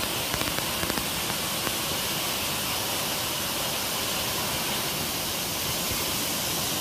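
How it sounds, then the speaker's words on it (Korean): Cheonjeyeon Falls on Jeju Island pours in a loud, close, continuous roar of falling water, a dense and unbroken rush that never lets up. "이 폭포 소리, 비 오는 소리 들으시면서 잠을 자시면 아주 꿀잠입니다"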